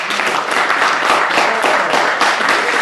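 A New Year show audience breaks into dense, loud applause, many hands clapping steadily and close for the whole stretch with no talk over it.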